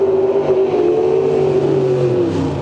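A Pro Stock Camaro drag racer at the 1982 NHRA NorthStar Nationals holds a loud, sustained high-pitched engine roar whose tone sags slightly toward the end, heard close and alone.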